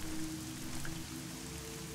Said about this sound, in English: rain effect on buildings